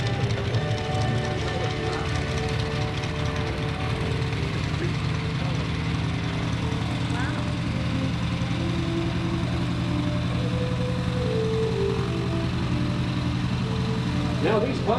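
Several World War II Stearman trainer biplanes taxi back to parking at an air festival, their radial engines giving a steady, loud droning rumble with uneven pitch shifts throughout, while a voice can be heard under the noise.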